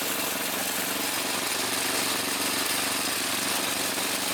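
A 22-year-old Craftsman 30-inch riding mower runs steadily in first gear, its small engine droning loud and continuous with a constant rough mechanical rumble and no pauses.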